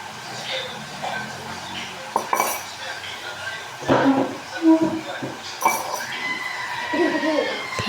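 Dishes, pots and cutlery clink and clatter in a scattered, irregular run of knocks and scrapes while washing up in a home kitchen, with a faint voice in the background.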